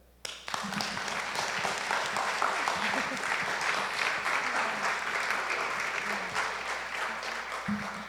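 Sustained applause from an audience at a youth church service, dense and steady for most of the clip after a brief quiet start, with a few voices murmuring underneath.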